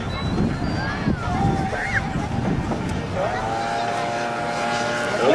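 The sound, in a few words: radio-controlled model airplane engine in flight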